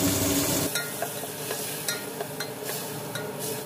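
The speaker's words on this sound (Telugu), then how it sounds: "టొమాటో, పచ్చిమిర్చి, కొత్తిమీర, పుదీనా పేస్ట్ ఇది వేసి వేయించుకోవాలి." A paste of tomato, green chili, coriander and mint fries in a pan, with a soft steady sizzle broken by scraping stirs and occasional clinks of a utensil.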